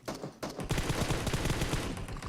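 Rapid bursts of automatic gunfire from the mobile shooter game PUBG Mobile, loud and sustained after a short pause, with dense overlapping shots and no talking.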